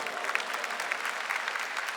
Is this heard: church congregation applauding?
yes